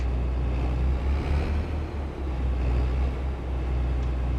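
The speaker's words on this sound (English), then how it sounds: "I like the sound, the engine sound of this case. I really like this case combine quite a lot, actually." A Case combine harvester engine in Farming Simulator 22 drones steadily, a low, continuous rumble with slight fluctuations, heard alone without talk.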